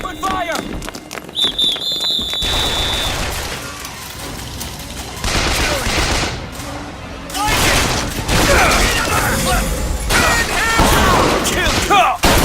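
Rapid bursts of gunfire and booming shots from a Bioshock Infinite firefight, loud and close, layered with shouting voices and running commotion throughout.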